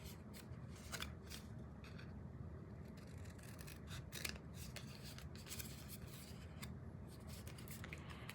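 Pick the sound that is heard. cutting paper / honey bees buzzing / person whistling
cutting paper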